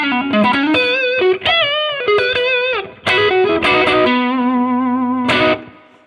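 Electric guitar runs through a custom Nordvang No. 1 distortion pedal on its germanium clipping setting, playing sustained, slightly fuzzy single notes and short phrases with a warm, saturated tone, loud and close, no talking.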